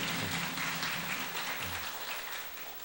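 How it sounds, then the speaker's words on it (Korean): A church congregation claps during Sunday morning worship, a soft, fairly distant, even patter of many hands that slowly fades toward the end. "참 잘하셨다고 박수 한번 해주시기 바랍니다."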